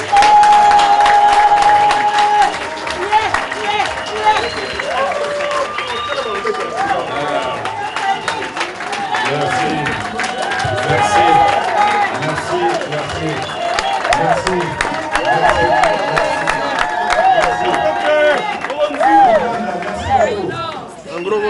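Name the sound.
crowd applauding at a party event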